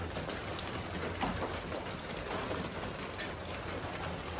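Steady, dense rain of large, widely spaced drops falls outdoors, a continuous hiss with no voices.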